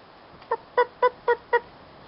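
A short series of five quick, nasal honking calls from turkeys, evenly spaced and fairly close, with no talking.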